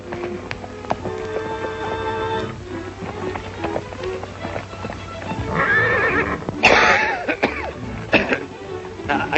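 A horse carrying two riders whinnies loudly, with rhythmic hoofbeats clopping underneath and a cough or throat clearing near the end, in an old Western film scene.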